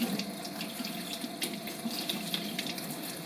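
A paint brush is rinsed under a running tap into a sink, a steady close splash of flowing water with faint shifting spatter as the brush moves through the stream.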